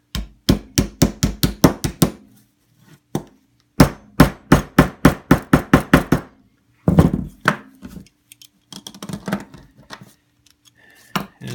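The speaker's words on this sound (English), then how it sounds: "so I'm not hammering around a hard edge" Rapid bursts of sharp hammer blows on an aircraft metal flange over a wooden block, loud and close, in quick rhythmic runs with short pauses, then scattered lighter taps.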